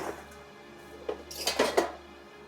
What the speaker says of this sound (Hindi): ये बर्तन धरकाऊं घर में।